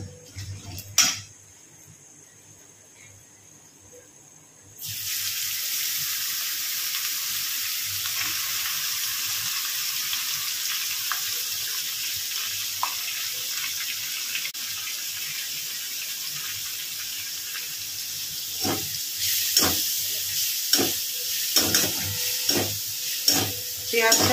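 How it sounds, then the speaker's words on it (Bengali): Chopped onion frying in oil in a pan for a yogurt chicken gravy, a loud continuous sizzle starting after a quiet opening and holding steady, with clattering stirring strokes toward the end. "পেঁয়াজটা একটু ভাজা ভাজা হয়ে আসলেই আমি আদা রসুনটা বেটে রেখেছি"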